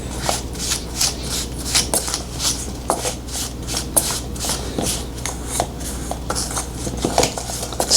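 A fork works butter into a crumbly muffin topping in a bowl, giving a rapid, steady series of close scraping clinks and taps against the bowl that continue without pause.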